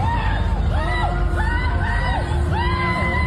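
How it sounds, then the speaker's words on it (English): A crowd of people screaming and whooping in excitement at a chaotic moment, several rising and falling shrieks overlapping over a dense, loud hubbub. "that's someone screaming when things go crazy"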